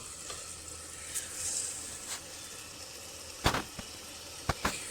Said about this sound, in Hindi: सब कुछ अच्छे से भून रहा है